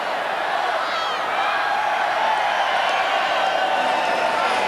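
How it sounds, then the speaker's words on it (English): A large stadium crowd at a 1999 Super 12 rugby match between the Hurricanes and Crusaders chants a countdown as the clock runs to zero, a dense, steady roar of many voices heard from a distance with no pauses. "Crowd counting down the clock on the ground to 0."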